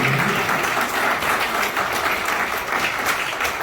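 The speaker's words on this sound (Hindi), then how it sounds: "तालियां" Audience applause at a Vasant Panchami religious gathering, a dense steady clapping that fills the whole stretch at close range without letup.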